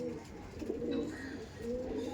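Punjabi pigeons coo in low throaty rolls, two or three phrases close at hand, with a brief higher chirp in between.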